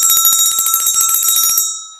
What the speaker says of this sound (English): 1995 silver-plated bell, and it really rings.